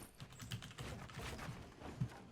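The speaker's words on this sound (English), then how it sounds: "you can hear him tapping on his keyboard and clicking his mouse" Someone taps and clicks on a computer keyboard and mouse while playing Halo Infinite, with faint, quick, irregular keystrokes under a low background murmur.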